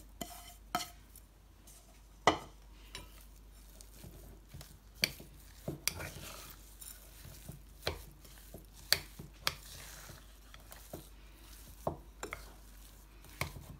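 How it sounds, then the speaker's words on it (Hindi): Spiced potato samosa filling being mixed in a bowl, a quiet run of irregular taps, scrapes and knocks from a spoon, close by and with no talk. "अब हम इसे मिक्स कर लेंगे"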